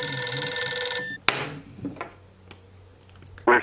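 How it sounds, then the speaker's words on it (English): A phone rings with an incoming call, a loud electronic ringtone lasting about a second before cutting off, followed by a sharp knock and faint handling noises, with a brief burst of sound at the end. "Sorry, my bestie Sam is calling me"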